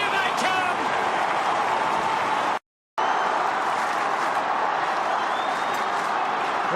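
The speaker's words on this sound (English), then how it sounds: "The crowd are a factor now." Large stadium crowd at a 2003 AFL qualifying final between Port Adelaide and Sydney, roaring and cheering loudly and continuously, with one abrupt brief dropout partway through.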